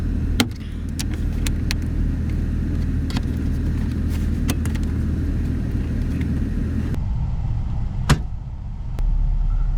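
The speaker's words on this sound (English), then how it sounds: "It's about 20 degrees outside, so I went ahead and turned the car on so the heat" A Toyota Land Cruiser Prado idles in cold weather with the heater running, a steady low engine rumble with a few sharp clicks and knocks over it before the sound drops partway through.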